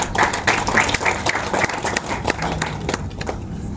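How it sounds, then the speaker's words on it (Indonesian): A room full of people at a university accreditation mentoring session applauds together, a dense, steady burst of clapping that holds for several seconds and thins slightly toward the end. "tepuk tangan untuk kita semua"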